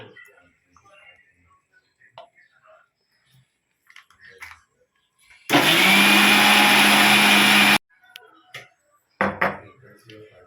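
A mixer grinder grinding a mixture with curd roars loudly for about two seconds in one steady burst, then cuts off, with quiet clinks and handling noises before and after.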